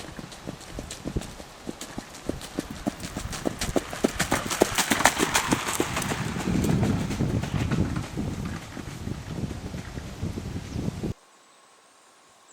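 Trotting horses clip-clop in a quick, steady rhythm, growing louder as they pass near with light rustling around them, then cutting to near silence.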